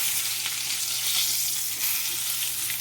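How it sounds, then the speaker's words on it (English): Nabeta fish fries in butter in a pan, giving off a loud, even, continuous sizzle with fine crackling and no voices. "Alright, our nabetta is nice and fried"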